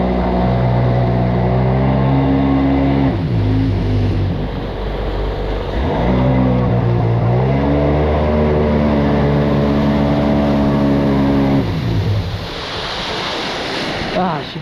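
A Sea-Doo XP-DI personal watercraft engine runs on the water with a loud, continuous droning hum that rises and falls in pitch, under wind noise and water splashing.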